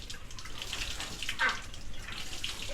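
Water running from a faucet, a soft continuous hiss of flow that holds steady and moderately close for a few seconds with no voices.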